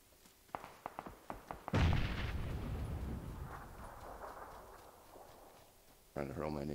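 Grenade explosion in PUBG on Xbox: a series of sharp clicks and taps, then one heavy, booming blast with a long rumbling tail, and a voice briefly talking at the end.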